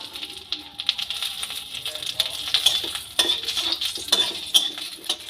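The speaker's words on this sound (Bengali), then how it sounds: "তেজপাতাটা লঙ্কাটা একটু ঘিয়ের মধ্যে ভেজে নিলাম" Bay leaf and dried red chilli frying in ghee in a pan, giving a steady close sizzle with scattered sharp spits and a few stirring clinks of a utensil against the pan.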